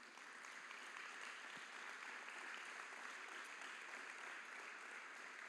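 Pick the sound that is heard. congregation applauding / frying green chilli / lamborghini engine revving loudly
congregation applauding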